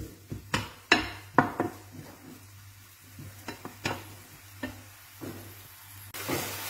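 Finely chopped onions cook in a pan for ratatouille, giving a soft, low sizzle broken by sharp clicks and scrapes of a utensil stirring and tapping against the pan.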